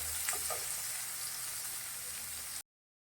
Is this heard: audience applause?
no